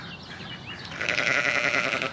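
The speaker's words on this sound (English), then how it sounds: "Got some sheep in the house." Sheep bleating inside a house, a wavering animal call that swells louder and holds steady through the second half of the clip, alone with no talk.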